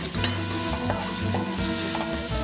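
Onions sizzle briskly in hot oil in a home kitchen pan, a close, steady crackling hiss broken by the scrape and clatter of stirring, with no talking.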